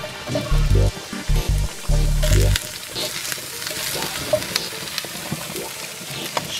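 Kumara frying in a skillet, a steady close sizzle and crackle with occasional stirring clicks, preceded by a few loud low thumps in the opening seconds.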